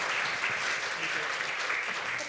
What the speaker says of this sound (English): a round of applause for our former presidents and leaders of the association